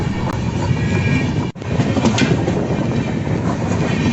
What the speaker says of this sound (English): Just a peaceful train ride through nature